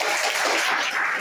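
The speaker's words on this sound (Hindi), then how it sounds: "जोरदार ताली बजाओ" Dense applause from an audience at a business-plan meeting, steady and fairly loud through the whole short stretch, with no break and no voices on top.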